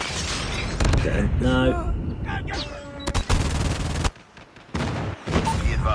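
Airstrike explosions and gunfire in a Call of Duty multiplayer match: loud bursts of automatic fire and booming blasts with sharp cracks, brief drops to near silence, and short shouted voices among the chaos.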